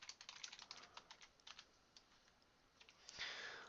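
Quick, light keystrokes on a computer keyboard entering text into a PowerPoint text box, a rapid irregular patter of faint clicks that pauses briefly before a final soft burst.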